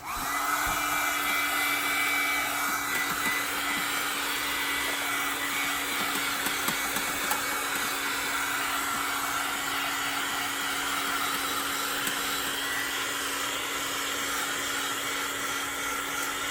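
A hair dryer blowing on a decoupage mini-book, a steady whirring hum with a sustained tone that switches on at the start and runs evenly and close throughout, no talking over it.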